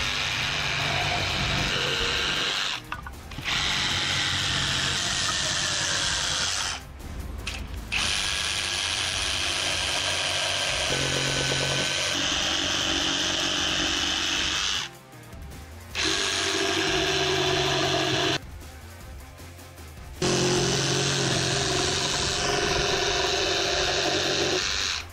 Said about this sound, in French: Les capacités de coupe de cette machine sont de 90 mm dans le bois, de 20 mm dans l'acier plein